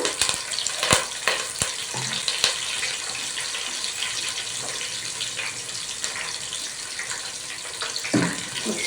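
Sesame seeds, cumin, chillies and onions sizzle and crackle steadily in a hot pan, with sharp pops and occasional stirring clatter close up.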